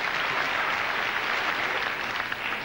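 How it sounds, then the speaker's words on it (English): A television studio audience claps steadily and loudly throughout, a dense continuous wash of applause with no pauses. "Why are they applauding that?"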